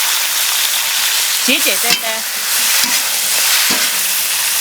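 Vegetables stir-fried with Sichuan pepper and chili sizzle loudly and steadily in a hot pan, with a few clanks of the utensil; a voice speaks briefly.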